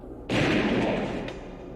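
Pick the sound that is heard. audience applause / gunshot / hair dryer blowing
gunshot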